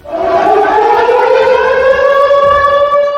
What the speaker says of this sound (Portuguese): sirenes de alerta serão instaladas no litoral norte de São Paulo